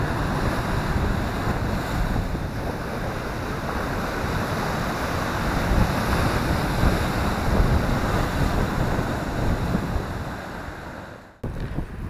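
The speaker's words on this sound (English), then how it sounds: "The wind's whipping up the waves." Grey, windy seaside near Cromer pier on the Norfolk coast, where steady wind buffets the microphone over continuous rushing surf as waves break close by, with no voices.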